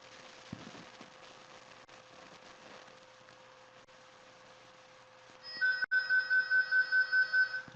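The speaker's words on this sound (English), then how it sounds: "There's my phone ringing again" A phone starts ringing partway through, a loud repeated electronic ring tone with a steady rhythm that follows a stretch of quiet room noise.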